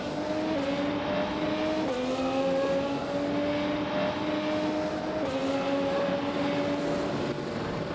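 Race car in a racing video game on a Bahrain circuit, its engine droning loud and steady with pitch dropping in steps as it brakes late and downshifts for the final turn, no talk.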